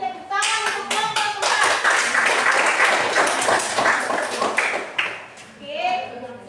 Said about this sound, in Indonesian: Jadi tepuk tangan untuk kelompok